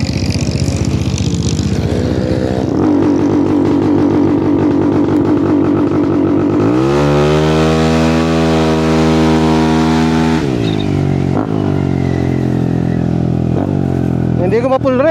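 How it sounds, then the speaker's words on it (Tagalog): A Yamaha Aerox scooter engine revved on launch control, held well short of full rev: a loud buzzing rev that climbs, then holds a steady high pitch before dropping back with blips, close up, with some talk. "para marinig nyo yung launch control, tatry ko lang siya dito. Kaya so hindi tayo full rev ah."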